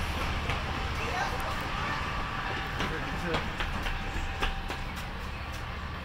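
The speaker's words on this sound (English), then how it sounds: "Oh, it's a BNSF train." A BNSF freight train rolls past with a steady rumble and rhythmic rail clicks, close and continuous, with voices talking over it.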